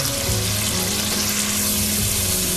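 Onion paste fries in hot oil in a karahi, giving a dense continuous sizzle with bubbling and faint stirring, close and steady throughout.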